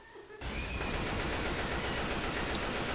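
Dense gunfire in Left 4 Dead 2, a sustained loud barrage of rapid shots that bursts in suddenly and continues without pause, close and overwhelming.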